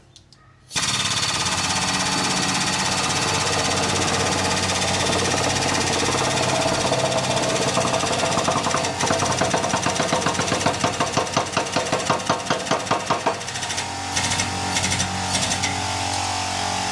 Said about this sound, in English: Compressor might kick in again this time.